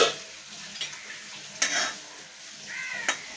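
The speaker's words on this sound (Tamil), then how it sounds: "மீன் பொரிச்சிட்ருக்கேன். ரெண்டுமே சாலை மீன் தான்." Chala fish (sardines) fry in a pan with a steady hiss of sizzling oil, punctuated by a few sharp utensil clinks and scrapes, close and clear.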